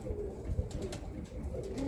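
Close, continuous low cooing from a group of Birmingham Roller pigeons in their loft, soft throaty calls rising and falling with no talk.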